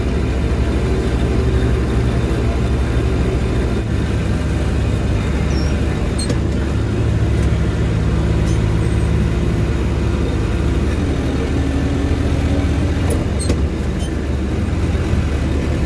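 An old tractor engine pulls a bean drill across a field, a steady loud low rumble droning without pause, with a few faint high clicks and ticks from the drill overhead.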